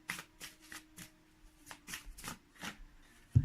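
Tarot cards are shuffled in about nine quick, crisp bursts at a steady pace, close but fairly quiet, ending with a soft thump. No voice is heard.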